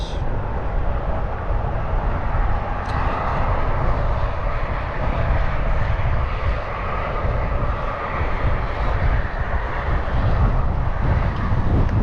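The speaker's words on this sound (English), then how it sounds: "It's getting really windy." Strong wind buffets steadily with a loud, continuous rushing roar and low rumble, unbroken for the whole stretch.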